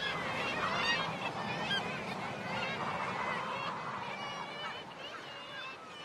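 A crowded black-legged kittiwake colony calling from tightly packed nests in the Arctic spring, overlapping harsh, nasal cries rising and falling from many birds at once, loud and close.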